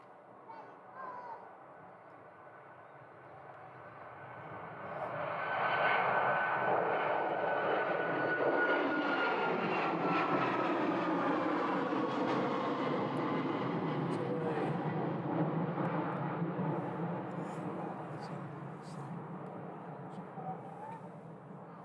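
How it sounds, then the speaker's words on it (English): Ryanair jet airliner bound for Krakow at Leeds Bradford Airport, its engine roar building steadily into a sustained loud rumble and whine, then slowly fading, with people talking faintly underneath. "This is Ryanair to Krakow."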